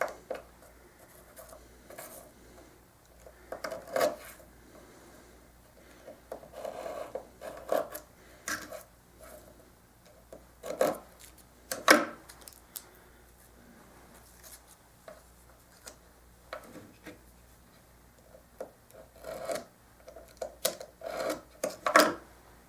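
A knife blade scraping and rasping around the nut of an acoustic guitar in short, close, irregular strokes, quiet and dry, with brief pauses between cuts and no voices.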